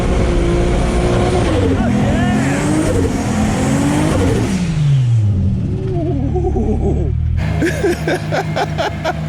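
A high-mileage Toyota Supra making about 801 wheel horsepower roars through a loud tire-smoking burnout, its engine revving up and falling back hard and close, with excited shouts and cheering over it.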